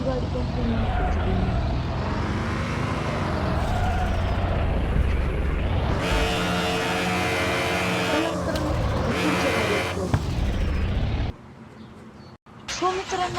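A car engine roars in a racing video game, a sustained loud drone that rises and falls with revving and shifting, then cuts out briefly near the end; a voice speaks over it in places.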